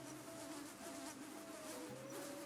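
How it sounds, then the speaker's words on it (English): Bees buzz steadily in the Wii Fit Plus cycling game, a faint continuous insect drone with a thin wavering hum and no voices. "there are bees here"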